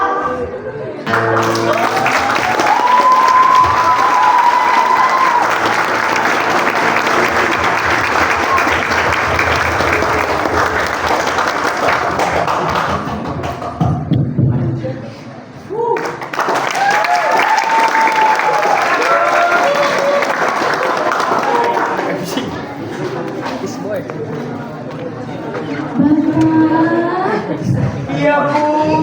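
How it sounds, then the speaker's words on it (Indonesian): Audience at a student club inauguration applauding in long, loud waves of dense clapping with some crowd noise, pausing briefly midway before resuming, with voices and music heard beneath. "Tepuk tangannya dong sekali lagi"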